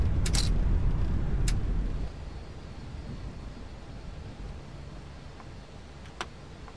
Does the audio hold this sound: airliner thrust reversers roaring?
yes